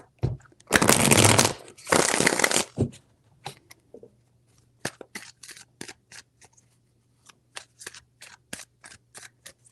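Tarot cards riffled in two loud bursts near the start, followed by a run of short, sharp taps and snaps as the deck is squared and handled.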